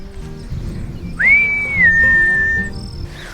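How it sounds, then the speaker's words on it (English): A single long, steady human whistle calling cows rises then holds its pitch for over a second, loud against a low background rumble outdoors on a farm, with a short fainter whistle after. "I also want them to follow my whistle."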